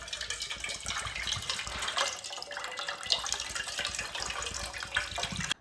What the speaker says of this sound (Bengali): এবার একটা পাত্রের মধ্যে ডাবের জলটাকে ঢেলে নেব।